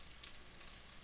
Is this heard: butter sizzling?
yes